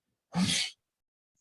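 One sharp human sneeze, close and loud, bursts out of near silence during a tabletop role-playing game session and cuts off quickly.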